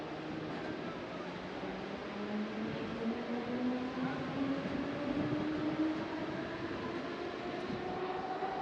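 Steady rumbling of a moving commuter train from inside a carriage, with rising and falling motor whine over constant track noise.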